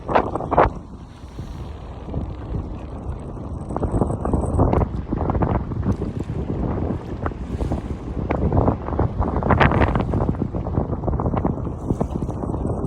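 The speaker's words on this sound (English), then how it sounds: "Wind is crazy" Strong wind buffets the microphone at a scenic New York City spot in the Bronx, a loud continuous rumbling roar with gusty surges throughout, no voices.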